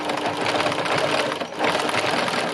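A sewing machine runs a zigzag stitch along a trouser leg, a fast steady mechanical whirring close up that briefly dips midway before resuming.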